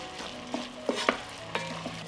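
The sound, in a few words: frying onion, pepper and tomato in a pan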